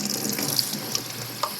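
Water pours into a container to dilute an orange MRE drink mix, a short, close splashing trickle with a few small bright drips.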